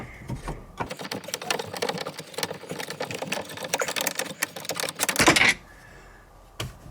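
A power tool whirs steadily while backing long screws out of a Jeep JK freedom panel, a sustained buzzing run with rapid rattling that stops abruptly near the end, followed by a couple of faint clicks.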